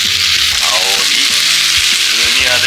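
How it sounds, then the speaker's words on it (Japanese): About two onions stir-frying in a Chinese wok pan at medium heat, a loud, steady sizzle of oil throughout, with scraping stir strokes recurring every half second or so. "それであとはゆっくり炒める"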